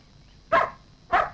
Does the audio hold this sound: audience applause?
no